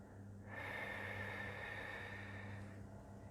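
A single deep inhale through the nose during guided meditation, a soft airy breath swelling over a few seconds and then easing off, close and quiet, alone without talk.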